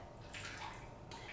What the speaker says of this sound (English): let the water drip out just a bit.